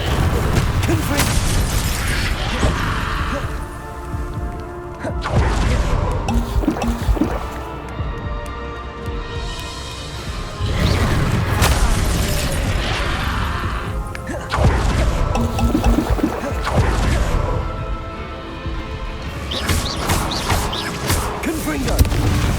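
Repeated Confringo spell blasts from the Hogwarts Legacy video game, loud crashing bursts recurring every few seconds over a dense, busy game soundscape, with voices shouting between impacts.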